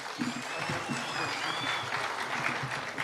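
A crowd at a commuter rail construction launch in Ngong applauds to welcome the president, a steady wash of clapping filling the whole moment with voices murmuring beneath.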